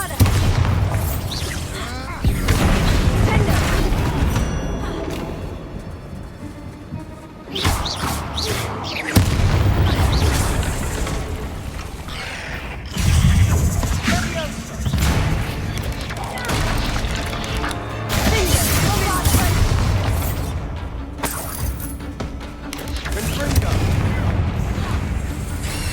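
Bombarda explosion spells blasting in Hogwarts Legacy, repeated loud booms and crashes with rumbling debris over busy combat noise, with a voice talking at times.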